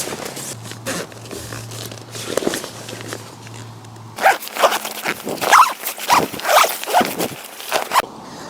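A zip being drawn open along the door of a Prologic Selecta 2 man bivvy, with close, rasping pulls in quick bursts that grow louder partway through.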